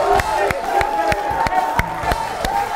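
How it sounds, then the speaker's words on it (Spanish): At a Costa Rican televised show, a studio audience claps for a congressman, with sharp, rhythmic claps at roughly half-second intervals over a steady crowd murmur, loud and close. "¡Aplauso!"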